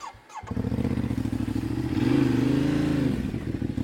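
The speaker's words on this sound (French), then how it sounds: "je vais démarrer la moto, je vais avancer un peu et après me reculer" A motorcycle engine fires up and idles with a throbbing beat, then revs higher as the bike moves forward up a slope, loud and close.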